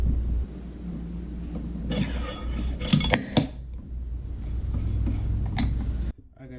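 Metal axle bearing and flange slid onto a live go-kart axle, giving a cluster of sharp metallic clinks and scrapes in the middle over a steady low workshop hum, ending abruptly.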